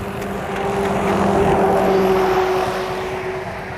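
A motorcycle engine idles steadily close by, a continuous even drone holding the same pitch throughout with no voices over it.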